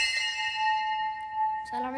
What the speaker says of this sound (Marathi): फर्स्ट वाजवे जरा घंटी